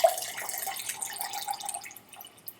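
Supermarket-brand tonic water is poured into Ungava Canadian Premium gin for a gin and tonic, a soft close trickling stream with faint bubbly fizz and drips, with no talking.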